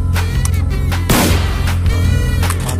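A cowboy pistol fires in a gun game, a loud close blast with a booming tail standing out against a dense, steady game soundtrack.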